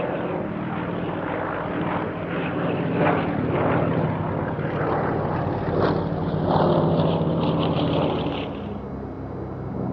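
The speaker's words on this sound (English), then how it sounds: "This is the Polikarpov I-152 DIT two-seat trainer." A Polikarpov I-152 DIT two-seat trainer biplane flies past with a rumbling propeller engine drone, swelling and fading in pulses as it passes at moderate distance, with no voices.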